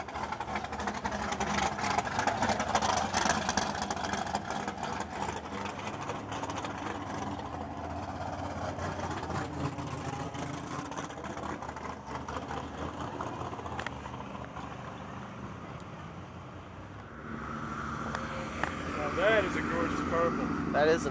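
A vintage drag racing car idles at a yesteryear drag strip event, a steady low engine rumble running throughout amid crowd noise and people talking nearby.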